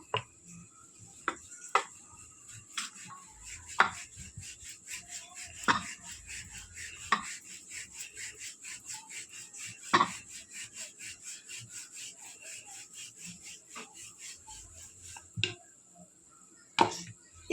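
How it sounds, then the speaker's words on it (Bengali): A rolling pin rolls out floured dough rotis for chicken patties, making a rhythmic back-and-forth rubbing on the board at a steady pace, broken by occasional sharper knocks, close and fairly quiet. "ময়দা দিয়ে বেলে নেবো সব রুটিগুলো"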